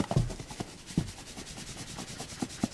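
Dry bannock ingredients with powdered milk being stirred together, soft scraping and rubbing strokes with a few light knocks, close and quiet, no talk.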